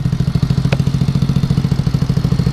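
A Boom Vader motorcycle, a Grom clone with about 1,500 miles on it, idles close by, its exhaust thumping in a steady, even pulse with a light mechanical clatter throughout.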